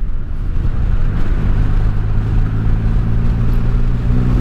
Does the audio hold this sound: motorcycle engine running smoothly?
yes